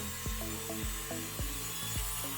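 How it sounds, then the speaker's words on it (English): A cheap handsaw trims pallet wood for an upcycled old Ikea table, giving about five steady back-and-forth strokes that rasp close and moderately loud, with no talking. "Trim that in the cheap saw again."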